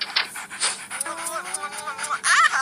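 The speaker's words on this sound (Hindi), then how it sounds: "कितना अच्छा कुत्ता है" A dog pants in quick, rhythmic breaths close by, with brief voices and a short squeaky whine mixed in at night outdoors.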